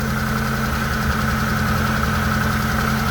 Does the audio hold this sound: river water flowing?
no